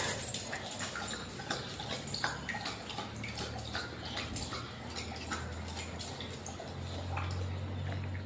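A pet dog laps up water at close range, a quick run of small wet slurps and drips with no voices.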